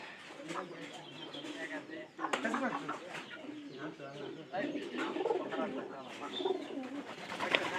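A recovered Pairi pigeon coos softly and repeatedly at close range, the low rolling calls overlapping with faint background voices and other bird sounds.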